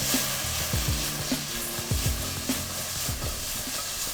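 Vegetables caramelizing in a syrupy glaze in a hot pan hiss with a steady sizzle, with repeated scraping and stirring strokes of a utensil at close range.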